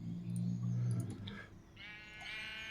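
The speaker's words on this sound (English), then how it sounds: "Are you a male sheep? You are a male sheep." Sheep bleating in the TerraFirmaCraft Minecraft mod, a pair of wavering, nasal calls at moderate volume over a low ambient hum.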